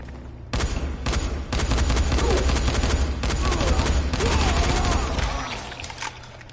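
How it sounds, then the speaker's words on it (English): Flashbang grenades and gunfire in the video game Dying Light, a dense fusillade of rapid shots and bangs rattling on continuously before fading out near the end. "they flew some flashbangs in first, but we were far enough away that they didn't actually hit us with them"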